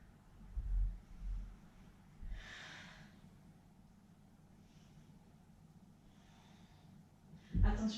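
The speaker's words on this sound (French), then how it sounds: "Inspirez et soufflez." Breaths out during a Pilates exercise: a couple of soft, airy exhales early on, then fainter breathy puffs spaced a few seconds apart, close and quiet, with a low thump at the end.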